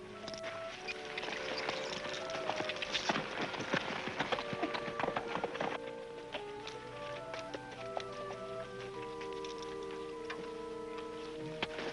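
Horse hooves clip-clop in an uneven rhythm over a bed of music, moderately loud and close, with no talking, in a 1953 western television episode.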